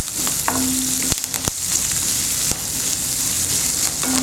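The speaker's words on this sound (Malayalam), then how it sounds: "ഇഞ്ചി പച്ചമുളക് കറിവേപ്പില ഇത്രയും ഇട്ടതിന് ശേഷം ചെറുതായിട്ട് ഒന്നുകൂടി ഒന്ന് വഴറ്റി കൊടുക്കാം" Dry chilies, ginger, green chilies and curry leaves sizzle and crackle in hot oil as they are sautéed, a close, steady frying hiss punctuated by a few sharp knocks of the spoon against the pan.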